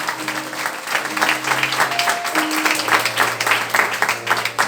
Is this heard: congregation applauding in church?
yes